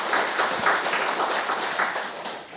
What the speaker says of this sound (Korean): 감사의 박수, 축복의 박수 하겠습니다.